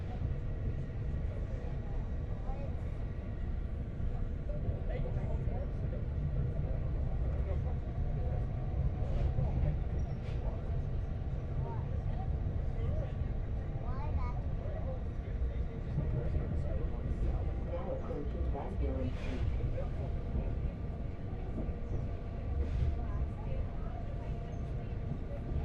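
Steady, loud rumble and whine of a moving train, running continuously throughout with a futuristic, spaceship-like whoosh and faint voices in the background.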